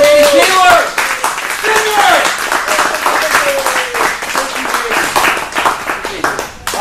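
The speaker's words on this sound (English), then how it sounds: "how about another big round of applause for Randy Taylor?" An audience at an anniversary event gives a loud round of applause and clapping, with whoops and voices mixed in, fairly close and sustained before trailing off.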